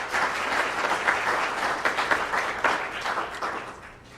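Audience applause at a health luncheon, a dense, steady round of clapping from many hands that holds at full strength for several seconds before thinning slightly at the end.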